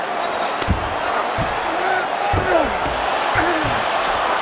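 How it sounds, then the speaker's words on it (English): Arena crowd noise in a UFC 5 fight: a steady, loud wash of cheering and roaring spectators, with a few whistles and shouts rising out of it. "the crowd is loving it"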